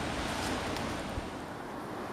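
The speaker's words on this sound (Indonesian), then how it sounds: "sudah mulai berangin" Wind blows steadily across an outdoor fishing spot for snakehead fish, making a dense, continuous rushing noise with microphone buffeting and no speech.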